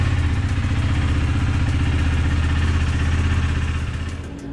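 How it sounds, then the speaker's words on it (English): A 2020 KTM 390 Adventure motorcycle engine idles steadily and close by while warming up, a low rumbling throb with light mechanical clatter, easing off slightly at the end. "I'm gonna actually start the bike and let it get up to operating temperature"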